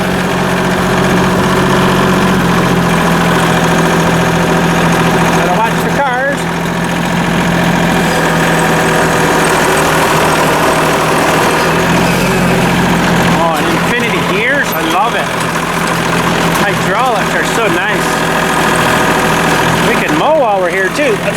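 A lawn-tractor engine idles and runs loudly up close in a steady, vibrating drone with some knocking texture, while someone talks over it at times.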